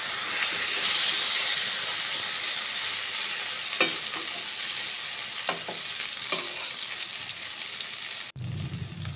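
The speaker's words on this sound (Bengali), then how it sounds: "আরও 2 মিনিটের মতো আমি ঢাকনা ছাড়া আলুটা কষিয়ে নেব মশলার সঙ্গে।" Potatoes frying with spices in an open pan for a Bengali sorputi fish recipe, a constant close sizzle broken by a few sharp scrapes of stirring, then cutting off abruptly near the end.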